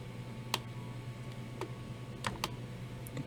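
Sparse computer mouse clicks and a keyboard key press during work in floor design software, quiet, isolated sharp ticks spaced irregularly over a low steady room hum.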